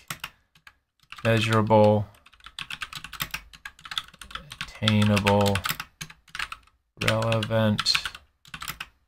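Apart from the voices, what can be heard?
typing on a computer keyboard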